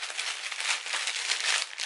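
A plastic package is torn open and handled indoors, giving a close, steady crinkling and rustling that runs for about two seconds with no talk.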